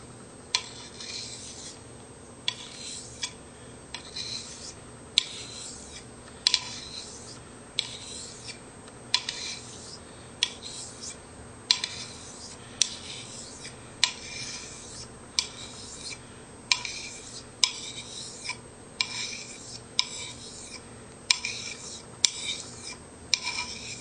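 Straight razor honed on a hone with rhythmic, close scraping strokes, each pass a short gritty rasp repeating steadily and fairly quietly with no talking.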